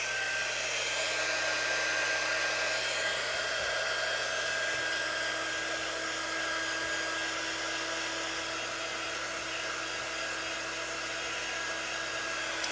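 Hair dryer blowing on a patriotic star-and-firecracker craft piece: a steady, loud, continuous whir with a faint high whine, running unchanged for about thirteen seconds, with no talking.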